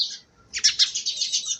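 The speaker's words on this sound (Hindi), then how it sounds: "परिंदे चहचहाते हुए" Outdoors under clear summer skies, small birds chirp in quick high-pitched bursts, a short call followed by a longer run of rapid tweets, fairly close and clear over near silence.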